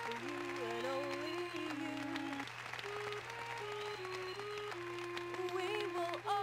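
A crowd claps in the Steambot Chronicles video game, a soft patter of applause running beneath game music with sustained melodic tones.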